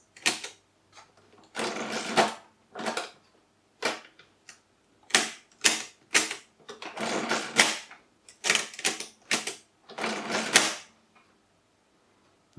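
Mercedes Euklid 29 mechanical calculator being worked by hand: bursts of rapid clattering mechanical rattling and clicks, some long runs and some short sharp snaps, separated by brief pauses, close and alone.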